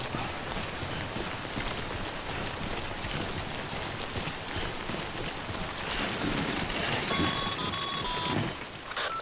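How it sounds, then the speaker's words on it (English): Timefall rain in the video game Death Stranding hisses as a steady, dense downpour throughout, with a few bright electronic beeps toward the end. "Don't stay out in the rain any longer than you have to."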